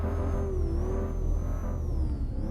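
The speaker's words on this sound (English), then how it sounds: "You can hear like the electric engine on top of the..." A hybrid car's electric motor whine rises and falls slightly over a deep, continuous engine hum in Cyberpunk 2077, loud and close, with no talking.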